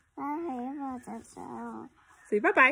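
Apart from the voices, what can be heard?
dogs barking in the background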